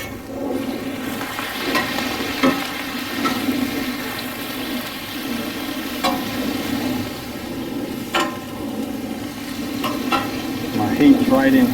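Onions and peppers fry in butter on a hot griddle for smash burgers, giving a steady close sizzle with occasional scraping and stirring clatter throughout, no voices over it.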